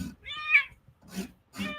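A house cat meows three times in short, separate calls, close to the microphone and fairly quiet, with brief silences between them and no talking.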